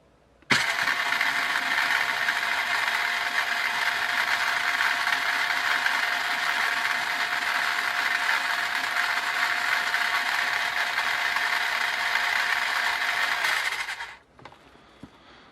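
A FastLane RC Jeep Cherokee's electric motor and gears whir steadily with a ratcheting mechanical buzz for about fourteen seconds, close and loud, then cut off abruptly, leaving faint clicks.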